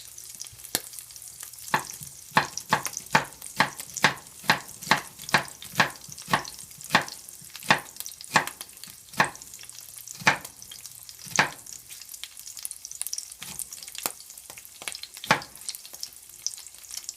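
Thinly sliced onion cooking in a pan, with a soft sizzle under a run of sharp knife or utensil taps and clacks, steady then spaced out, close by and with no talk.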